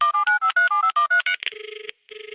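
A telephone call being placed to a doctor from a Radio City comedy studio: a rapid series of dialing tones, then a steady repeating ring-back tone with a short gap, clear and unaccompanied by speech.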